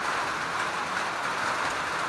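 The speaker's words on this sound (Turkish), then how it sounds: "Ama çok güzel bir yağmur var." Steady rain falls outdoors in a garden where goji bushes grow, a dense, even hiss with no pauses or voices over it.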